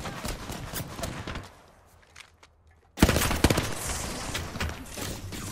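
Rapid gunfire from a new gun in the battle game Apex Legends, several quick bursts of shots after a short lull, loud and close against busy game noise.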